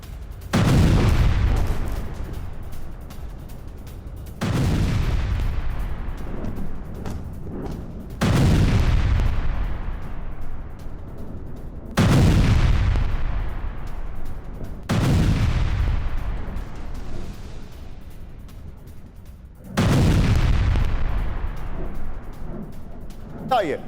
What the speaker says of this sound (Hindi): अल हुदैह में भीषण मिसाइल अटैक किया गया है।